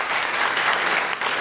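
An audience claps at a literary stage event, a brief dense burst of applause filling the whole moment.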